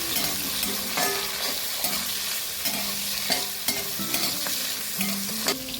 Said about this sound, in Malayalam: നമുക്ക് ചെറുതായിട്ട് അരിഞ്ഞു വെച്ചിരിക്കുന്ന തക്കാളിക്ക് ഇതിലോട്ട് ചേർക്കാം. ചെറുതായിട്ട് യോജിപ്പിക്കാം.